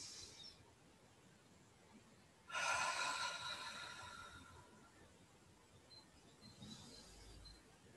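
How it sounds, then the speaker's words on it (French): One slow, deep breath in a quiet room, a soft breathy rush rising and fading in a single long exhale, with faint hiss before and after. "Grande respiration."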